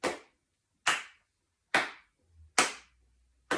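Single pair of hands clapping in a seated exercise routine, five sharp separate claps spaced about a second apart, close and crisp with silence between, a faint low thud between two of them.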